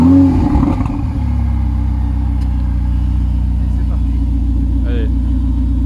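A Ferrari 488 Spider engine catches with a burst of starter clatter and revs, then settles into a steady, loud, deep idle close by, and a brief voice is heard near the end.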